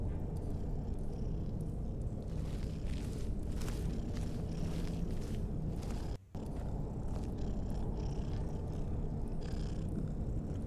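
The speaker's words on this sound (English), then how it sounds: "Because that sounds like a cat purring." A creature in Skyrim purring like a cat, a continuous low rumbling purr that runs steadily and loudly throughout, with a brief dropout partway through and no talking.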